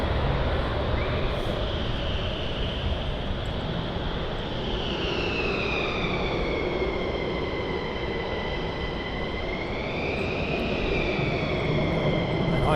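A military jet takes off at RAF Lakenheath, its loud, steady roar sustained throughout with a rising and falling whine as it climbs away, no voices over it.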